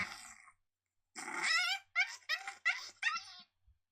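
Agitated coyote pup vocalization from a predator-calling sound pack: a short whine followed by a run of four or five sharp yelping, growling bursts, loud and close with brief gaps between them.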